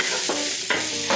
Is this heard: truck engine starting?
no